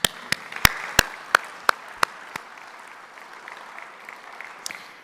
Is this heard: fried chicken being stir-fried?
no